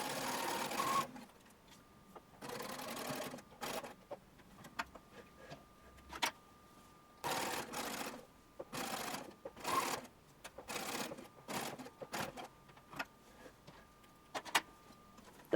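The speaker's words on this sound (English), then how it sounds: "Top stitch to finish" A sewing machine top stitches denim harem pants in repeated short bursts of varying length, each separated by brief pauses. The machine sounds close but fairly quiet, with no talking.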